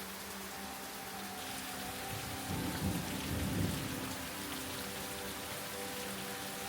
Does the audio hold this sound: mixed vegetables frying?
no